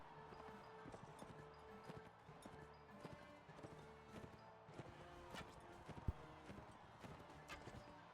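Horse hooves clip-clop steadily in the Mount and Blade Warband video game, a fairly quiet, regular run of hoofbeats with some faint game sounds around them.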